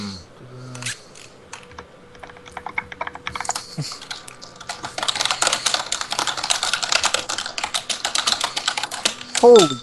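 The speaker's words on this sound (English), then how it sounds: "The typing." Loud, fast typing on a computer keyboard, dense clattering keystrokes that grow busier and more continuous midway, with people talking faintly around it and a brief voice at the end.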